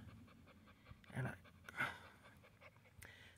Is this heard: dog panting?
yes